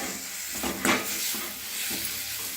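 Brinjal frying in an uncovered pan gives a steady close sizzle with a brief louder hiss and clatter as the lid comes off, then soft stirring scrapes.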